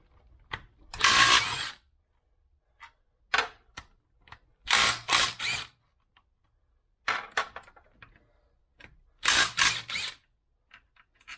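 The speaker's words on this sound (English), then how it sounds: "So basically all I'm doing here is taking off the 2 end caps." Bursts of metal-on-metal clanking and ratcheting as the end caps come off the differentials of a 1993 Range Rover LSE, a few loud clusters separated by quiet pauses and small taps, with no talking.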